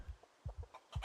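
Several chickens in Project Zomboid give short, quiet clucks in quick bursts, a handful of soft, low notes spread over a brief moment, close by but faint, with no voices.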